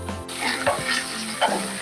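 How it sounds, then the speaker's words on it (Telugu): Cashews and green chillies frying in hot oil in a pan for a country chicken curry, a steady close sizzle with a couple of stirring scrapes. "జీడిపప్పు కూడా 1 నిమిషం పాటు పచ్చివాసన పోయే వరకు వేపుకుందాం"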